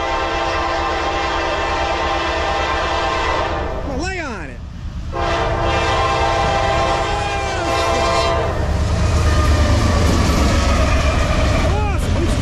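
A Norfolk Southern freight train, number 288, rolls past on Track 1 in South Plainfield, New Jersey, sounding loud, sustained horn blasts over the steady roar and rumble of the passing cars.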